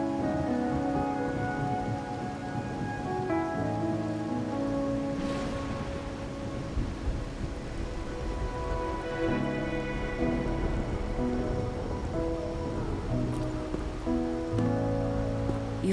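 Steady rain falls in the video game Wuthering Waves, a soft continuous hiss that sits under tonal background music throughout.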